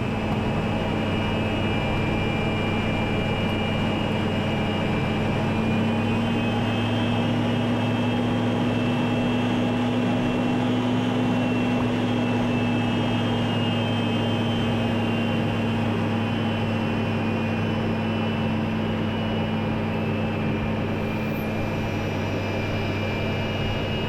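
Fighter jet engine heard from inside the cockpit while the plane is stopping, a steady loud whine and roar with sustained tonal hum, constant throughout with no talking.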